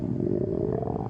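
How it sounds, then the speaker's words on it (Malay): A hungry stomach rumbles in a short, low, gurgling growl that stays steady and fairly close for about a second, with no voices over it. "Itu bunyi perut lapar tu."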